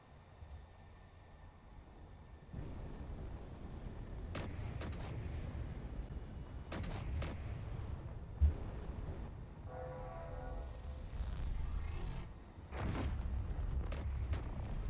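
A spaceship's aft gun firing in Space Engineers: scattered sharp booming shots over a steady low engine rumble, fairly quiet and distant, with several spaced reports.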